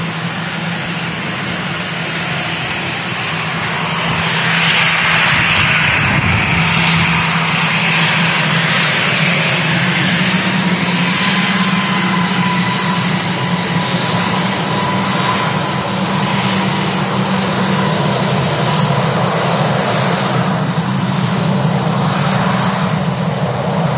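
An EasyJet airliner passes over Manchester Airport with a sustained, loud engine roar and low hum that rises a few seconds in and stays broad and steady, without voices.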